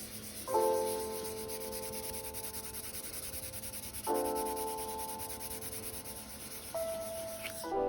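Sandpaper rubbing over a putty repair on a wooden floor, a steady, close scratching that continues throughout, with brief ringing tones rising over it now and then.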